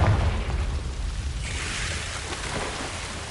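A Confringo blasting curse explodes in the Hogwarts Legacy video game: a loud, rumbling, noisy blast with a second burst of crackling roar about halfway through, and no voices.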